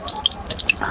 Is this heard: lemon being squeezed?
yes